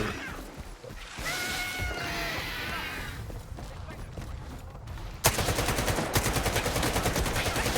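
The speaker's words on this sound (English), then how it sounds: "Yeah, it's a Psy-Cat or whatever it's called." Psy-Cat mutant creature attacking in the shooter game S.T.A.L.K.E.R. 2: Heart of Chernobyl, wavering yowling cries over ambient noise, then a sudden burst of rapid automatic gunfire that continues in close, loud volleys.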